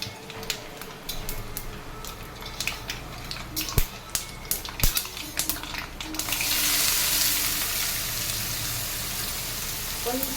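Chopped onion pieces fry in oil in a pan for a bottle gourd and tomato curry, giving a steady sizzle broken by sharp clicks of stirring, then a louder, broader hiss toward the end.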